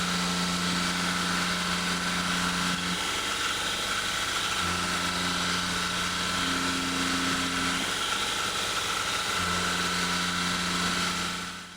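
A CNC milling cutter machines a metal motor heatsink on a solar-powered CNC while a diaphragm air blower clears chips, giving a steady, loud mechanical drone with shifting low hum, continuous for the whole stretch with no talk.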